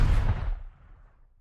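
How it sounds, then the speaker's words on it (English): Gunshot sound effect of a shotgun loaded with birdshot firing accidentally, a single heavy booming blast that rolls off and fades within about a second. "the wicked crack of gunfire thundered as the shotgun was accidentally fired"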